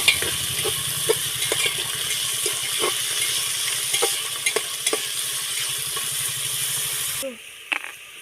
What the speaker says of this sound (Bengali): গাজর দিয়ে দিচ্ছি, হালকা করে ভেজে নেব।